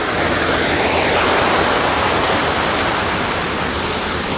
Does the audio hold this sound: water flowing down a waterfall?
yes